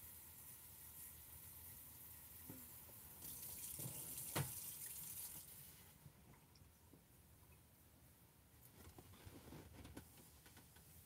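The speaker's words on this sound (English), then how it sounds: "I got to put some water in my tray for my stencil." Water runs from a tap into a tray for a stencil, a soft trickle that swells mid-clip then fades, with faint clatter around it and no talk.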